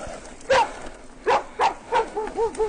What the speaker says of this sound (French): Les petits chiens.